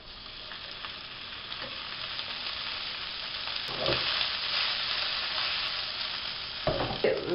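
Millet groat patties fry in a large 30 cm pan of oil, giving a steady, close sizzle throughout with a few louder crackling bursts near the middle and end.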